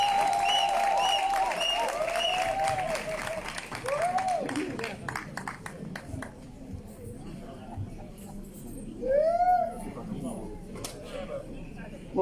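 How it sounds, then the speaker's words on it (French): In Côte d'Ivoire, a crowd welcoming Simone Ehivet Gbagbo applauds loudly, the clapping swelling and easing again, with high ululating cries and whistles rising over it and voices in the background. "On applaudit jusqu'à ce qu'elle arrive ici."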